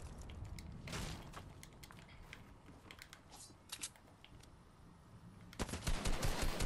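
Rapid bursts of gunfire from the Fortnite battle royale game crackle in clustered volleys, with a heavier, louder flurry of shots near the end; no one speaks.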